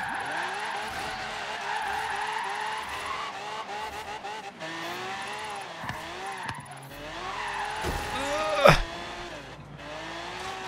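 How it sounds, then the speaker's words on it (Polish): A Lamborghini Centenario drifts in Forza Horizon 3, its engine revving and shifting while the tires squeal and skid in long sweeps, closing with a sharp loud burst near the end. "Centenario na drift."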